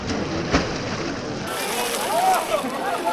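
Someone dips into water at the Muktinath temple in Mustang, Nepal, with soft sloshing and splashing over a hissing background, and a brief sharp splash near the start.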